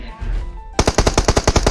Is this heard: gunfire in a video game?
yes